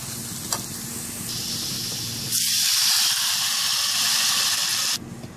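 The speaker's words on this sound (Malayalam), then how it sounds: "ഇനി ഇതിലേക്ക് പുളിവെള്ളം ഒഴിക്കാം" A steady sizzling hiss that suddenly grows louder and brighter midway as tamarind water hits a hot pan, then cuts off abruptly near the end.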